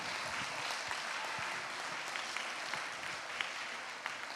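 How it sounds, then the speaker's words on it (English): Audience applause for a children's performance at a National Easwaramma Day event, a steady, dense wash of many hands clapping, heard from some distance and sustained throughout without pause. "Can we give the Region 6 children a big round of applause"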